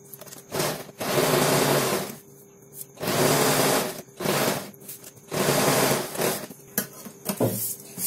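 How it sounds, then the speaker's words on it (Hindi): A sewing machine runs basting stitches across kurti neck fabric in several bursts of a second or two, with short pauses in between. The motor whir is close and fairly loud, and no voices speak over it. "हम इसके ऊपर एक कच्ची सिलाई लगा लेते हैं"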